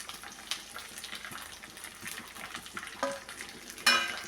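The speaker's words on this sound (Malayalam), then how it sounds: "ഇനി നമുക്ക് അടർത്തി വെച്ചിരിക്കുന്ന മുരിങ്ങയില കൂടി നമുക്ക് ഇതിലേക്ക് ചേർത്ത് ഒന്ന് ചെറുതായിട്ടൊന്ന് വഴച്ചിയെടുക്കാം" Drumstick leaves are sautéed with onions in a pan, giving a close, soft sizzle with stirring scrapes and a few sharp clinks of a utensil.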